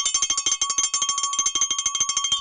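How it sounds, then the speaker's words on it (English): A small bell is struck rapidly and repeatedly, a steady run of bright metallic dings ringing clearly and evenly for a couple of seconds with no talking. "Ring the bell for all of them."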